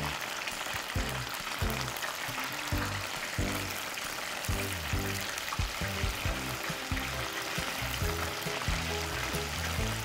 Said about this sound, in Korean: 표고버섯을 한 번 더 튀겨 바삭하게 해주시고요.